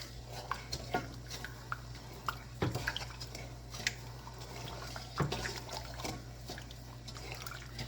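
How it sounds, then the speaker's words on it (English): Coarse sugar stirred into water to make a sweet syrup: a spoon scrapes and taps against the pot in an irregular rhythm, with soft liquid swishing and a low steady hum underneath. "So I'm just stirring the sugar until it dissolves."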